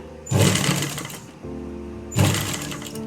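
A sewing machine stitches a trouser pocket in two quick close bursts of rapid mechanical chatter, separated by a brief quieter pause.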